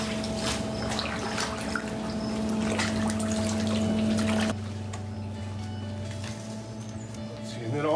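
Hot tub water draining out, a steady trickling and running flow with a low continuous hum underneath, heard fairly close throughout, its level dropping slightly midway.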